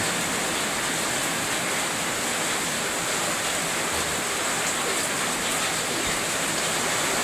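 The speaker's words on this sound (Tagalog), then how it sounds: "Tuloy-tuloy pa rin ang ulan." Heavy continuous rain pours down as an unbroken, dense hiss at steady volume, with no gaps or voices.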